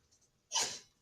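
A single short sneeze bursts out in a chemistry classroom, a sharp, close, breathy blast that fades within half a second against a quiet room.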